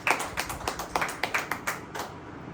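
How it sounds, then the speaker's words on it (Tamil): An audience claps in a church gathering, a steady rhythmic beat of roughly ten crisp, fairly close claps in unison, slowing slightly near the end, with no speech. "கைத்தட்டி ஆண்டவரை மகிழ்ப்படுத்தலாமா?"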